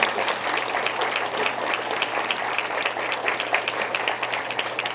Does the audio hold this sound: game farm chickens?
no